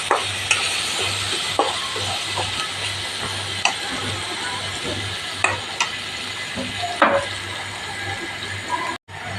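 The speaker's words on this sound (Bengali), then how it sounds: "ভালোভাবে নেড়ে চেড়ে মশলাটাকে কষিয়ে নেবেন।" Spices with turmeric and chili being sautéed and stirred in a pan, a soft sizzle under repeated clinks and scrapes of a spoon against the metal, close by, with a low hum underneath.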